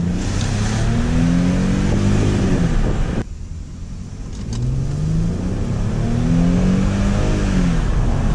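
A Mercedes car accelerating hard at full throttle, a loud, close engine roar climbing in pitch, a brief gear-change dip, then another rising pull with no talk.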